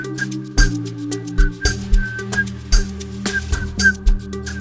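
An amapiano drum loop plays with punchy kicks, log-drum hits and crisp percussion in a steady groove. Short, thin whistle tones recur at regular points in the pattern, with no voice.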